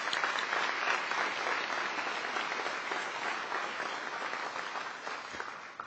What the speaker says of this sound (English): everyone please give a round of applause to the graduates of 2015